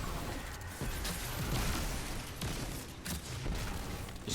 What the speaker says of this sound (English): I'm just going to throw both my skip grenades.